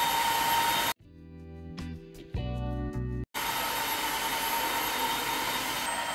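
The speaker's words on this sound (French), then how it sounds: "Là, je suis en mode aspirateur. Donc, il va juste aspirer." An Ultenic AC1 Elite wet-dry vacuum cleaner runs in vacuum mode, producing a steady whooshing, airy drone close by, briefly broken in the middle by a different tonal passage before the motor noise returns unchanged.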